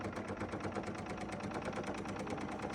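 A serger stitches fabric for a mug rug, running at a steady rapid mechanical rattle with evenly spaced ticking pulses, close and continuous throughout.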